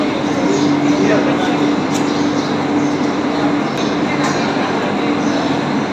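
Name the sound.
Sylhet railway station with trains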